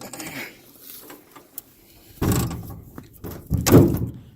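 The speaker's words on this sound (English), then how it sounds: "when you open these doors" Doors on a truck build being opened, each giving a solid thunk with a brief rattle, two distinct knocks close by and fairly loud over a quiet background.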